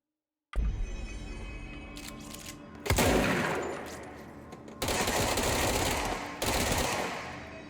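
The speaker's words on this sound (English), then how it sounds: "This is like the nail gun from Alan Wake" A nail-gun-like weapon in the video game Control fires in rapid bursts, a sudden loud onset followed by several sustained volleys of fast clattering shots with short breaks between them.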